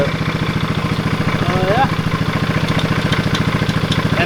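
A cheap Batman 200cc go-kart idles close up, its exhaust rattling from the broken bolts on a small guard. The rapid pulsing thrum is steady and even, and a voice is heard briefly.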